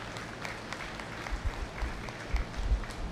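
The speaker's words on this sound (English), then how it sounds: "Let's give these three showmen out here a big round of applause" Moderate applause from a crowd at a 4-H/FFA dairy cattle showmanship event, steady clapping with low thumps and rumble in the background.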